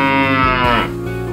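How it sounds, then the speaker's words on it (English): A cow lets out one long, loud, close moo that fades in its final moments, with no other sounds around it. "cow"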